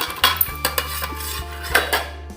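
Steel cooking utensils and pots clink and clatter up close in a quick series of sharp metallic knocks over a low background hum, with no one talking.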